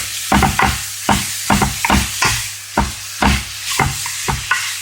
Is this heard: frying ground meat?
yes